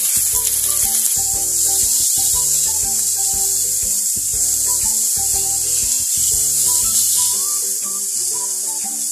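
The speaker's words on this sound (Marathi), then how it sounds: "टोमॅटो चांगले डाग पडेपर्यंत भाजून घ्यायचे" Raw green tomatoes roast in a pan with a loud, bright, continuous sizzle and hiss. Rubbing and scraping sounds from stirring run throughout, and no one speaks.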